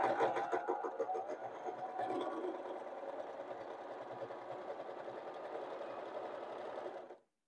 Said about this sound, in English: We're going to sew looking at the folded edge